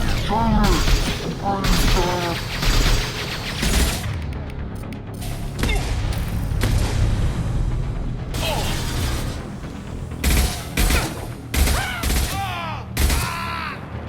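Mass Effect 2 combat with heavy gunfire bursts, clanking mechanisms and booming blasts around a loosening fuel tank, loud and close, with shouted voices mixed into the chaos.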